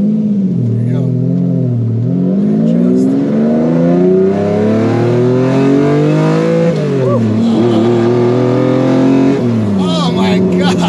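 Lamborghini Diablo accelerating hard in first gear, engine pitch climbing and dropping across repeated loud revving pulls, with a voice talking over the engine.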